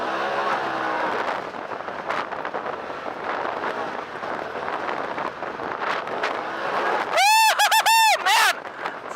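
A Polaris RZR XP Dynamix Turbo off-road vehicle revving hard under full throttle, a loud, close engine roar that rises and falls, ending in a few sharp, rising whooping pitch sweeps, without speech.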